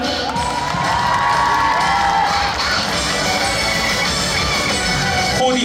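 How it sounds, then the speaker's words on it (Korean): Crowd cheering and shouting with scattered applause at the start of a Pripara idol grand prix senior league final, a dense, steady roar of voices and whoops running loud throughout. "박수 부탁드립니다"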